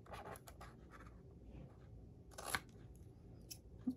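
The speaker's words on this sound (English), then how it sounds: "if it kind of hinders you from being able to fold it good, just kind of take it and kind of trim the edges" Scissors trim the edges of a cardboard treat box for pretzel craft-fair packaging, making quiet, close, scratchy snips in short irregular strokes with a couple of sharper cuts near the end.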